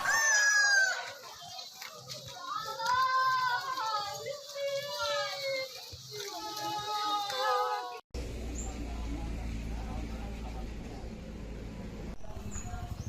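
Roosters at a cockfight in Way Kanan, Lampung crow in long rising, wavering calls for several seconds, loud and near, followed by a noisier stretch with faint clucking and children's voices.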